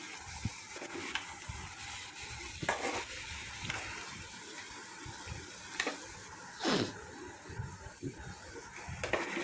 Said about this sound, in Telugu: దొండకాయ సిమ్లో వేసుకోవాలండి, లేకపోతే మాడిపోతుంది.